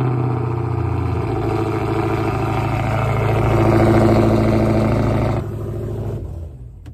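A car with its check engine light on turns over for a first startup and settles into a steady, rumbling idle, swelling slightly before dropping to a lower, rougher tone near the end.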